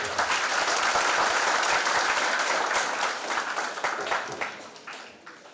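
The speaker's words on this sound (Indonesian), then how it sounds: "Mari kita berikan aplaus." Sustained applause from a seated audience at a university semester briefing event, loud and steady at first, then thinning into scattered claps as it fades.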